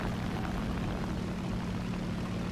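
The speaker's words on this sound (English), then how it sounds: "Look at those airplanes I saw going this way." Aircraft engines drone in War Thunder, a steady, fairly quiet propeller-plane hum that holds without a break, with no talk over it.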